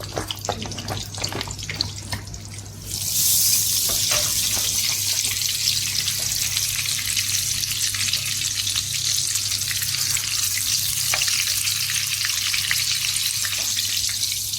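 Butter and cooking oil sizzle steadily in a hot frying pan, a loud continuous hiss that swells sharply after a few seconds and holds, with no talking.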